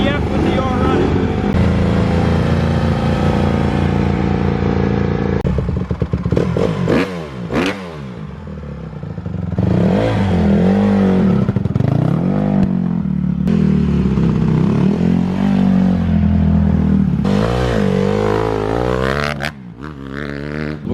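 Honda CRF150R dirt bike engine running loud and close for the whole stretch, a steady rasping idle with repeated throttle blips and revs rising and falling, with voices talking over it at points.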